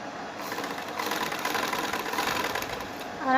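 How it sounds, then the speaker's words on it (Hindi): Sewing machine stitching lace close along the edge of a neck or sleeve piece, a steady continuous whirring hum that runs the whole time at moderate loudness, without any talk. "इस तरह से रख के मैं यहाँ पे सिलाई लगाऊंगी।"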